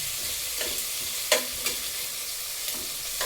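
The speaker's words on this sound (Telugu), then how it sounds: "అన్నీ వేసుకున్న తర్వాత టమాటా ముక్కలు వేసి మగ్గించాలి" Tomato pieces simmering in a pan with turmeric, chili powder and garam masala for tomato rice, giving a steady close sizzle with a few soft scraping stirs breaking through.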